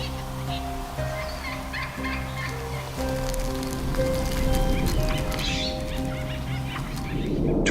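Wild turkeys gobbling in a field, a flock calling in repeated rattling bursts over a steady low background hum, fairly close and continuous, with no talking.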